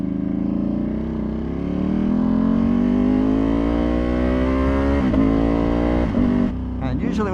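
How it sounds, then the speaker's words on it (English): A tuned Ducati Panigale V2 with a full titanium exhaust runs on the street, a loud close engine drone that rises steadily in pitch as it accelerates, with a few sharp pops near the end. "We are doing a first official ride on a full titanium exhaust and tune"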